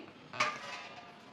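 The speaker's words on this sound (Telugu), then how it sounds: "ఒక కడాయి తీసుకొని" A metal kadai (wok) lifted and set down in a home kitchen gives one sharp clank followed by a brief metallic ring and a faint rattle, with no one talking.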